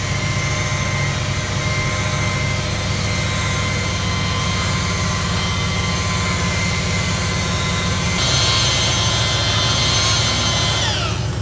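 A buffing pad polisher running on car paint, a steady loud motor whine with a continuous hum that shifts in pitch and grows slightly louder partway through.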